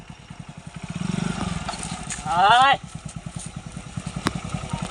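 A nearby motorcycle engine idles with a steady low putter throughout, partly under people talking in a Gujarati comedy sketch, with a brief louder tonal burst in the middle.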